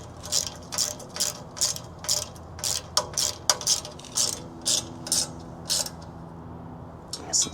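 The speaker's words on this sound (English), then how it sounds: "Just torque these up until they're nice and snug." A ratchet tightening bolts on a bike rack during assembly, a series of quick close clicking bursts in an even rhythm, about a dozen strokes, loud and crisp against a quiet background.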